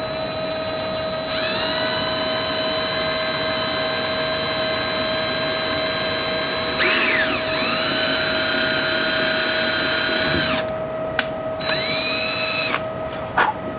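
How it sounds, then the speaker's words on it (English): Small power drill boring tiny holes in a fuel pump assembly, a loud high-pitched whine that runs steadily for several seconds, cuts out, then returns in shorter bursts with brief stops between them. "So let's go ahead and drill these holes."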